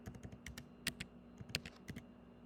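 Number keys tapped on a computer keyboard, about a dozen crisp, close clicks in quick, uneven bursts over a low steady hum.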